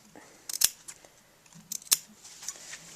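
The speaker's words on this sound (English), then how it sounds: "you clip, which just means cut in like that. Snip, snip." Scissors snip into fabric to clip an inner curve on a crepe sleeve facing: two sharp close cuts about a second apart, with small rustles around them.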